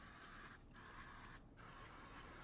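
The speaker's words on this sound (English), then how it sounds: "Spray them with cooking spray." Cooking spray hissing steadily into popover pans, in close continuous bursts separated by two brief pauses, with no talking over it.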